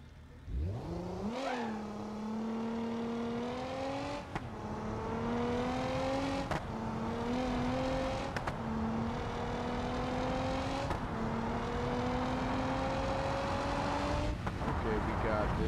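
A racing car engine revs hard and climbs through the gears, its pitch rising and then dropping at each shift in a repeated pattern. The engine runs loud and steady under a person talking.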